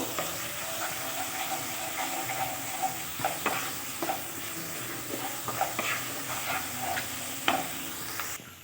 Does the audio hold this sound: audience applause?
no